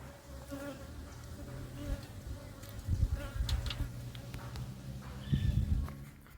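Honeybees around a hive fitted with a pollen trap buzz continuously at close range, individual bees droning louder as they pass near, with no talking.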